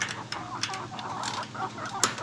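Chickens clucking softly and steadily while pecking at ragweed on a small homestead in the woods, with occasional louder calls over a low background rustle.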